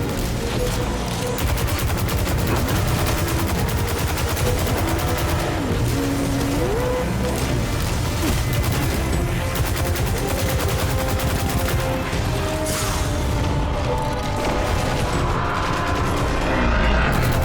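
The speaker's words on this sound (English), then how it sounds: "You can just dump with a Scorch Cannon." Scorch Cannon fire in the video game Destiny 2: Shadowkeep comes as dense, continuous bursts of heavy shots and booms, layered with mechanical weapon noise and rumbling explosions throughout.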